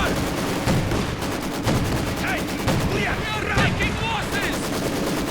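Rapid Flak Panzer gunfire rattles through a Company of Heroes 2 battle in continuous loud bursts, with scattered explosions, unit callouts and other battle sounds mixed in.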